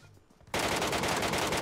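Rapid automatic gunfire from an online shooter tournament match bursts in suddenly after a quiet moment and continues as a loud, dense, sustained volley.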